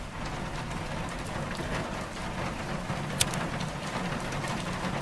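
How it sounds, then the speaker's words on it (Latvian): Rain falls in a steady hiss, with scattered drops and patters over a low background rumble and a single sharp click partway through. "Lietus."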